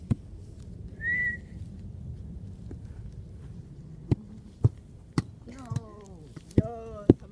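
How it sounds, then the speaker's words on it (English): A single short whistle blast for a soccer penalty shot rises above quiet outdoor ambience, followed by several sharp thumps and a few brief voiced calls. "Tomash, you whistle."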